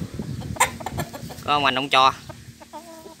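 A bantam rooster clucks in a few short, rising calls close by, with someone talking through and around them against background noise.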